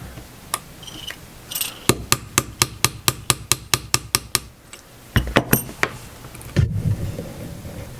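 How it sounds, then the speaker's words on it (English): A punch is hammered against the trigger bar pin of a Smith & Wesson M&P pistol, a run of sharp metallic taps in a steady even rhythm, close and loud, then a few scattered knocks and clinks. "So now we need to drive this pin out so we can remove the trigger bar."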